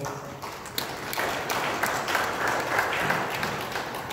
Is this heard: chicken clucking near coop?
no